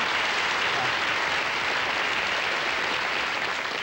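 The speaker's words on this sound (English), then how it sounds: "So if you don't laugh, at least applaud reverently." Steady applause from a studio audience at a 1960 Bob Hope show, a dense continuous clapping texture holding at even loudness throughout without speech.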